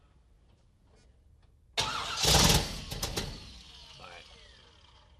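A new, never-fired 740 hp engine on a dyno cranks and fires to life with a sudden loud roar, then settles into a rough, rumbling idle. A voice is heard faintly before it starts.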